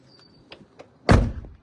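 A single heavy Volkswagen Transporter van door shuts with a solid, deep thud, preceded by a few faint clicks and handle sounds.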